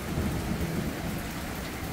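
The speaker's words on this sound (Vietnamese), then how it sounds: "giông bão tơi bời. Mưa rất là buồn" Heavy rain pours down steadily in a thunderstorm, a dense, loud, unbroken roar with deep rumbling underneath.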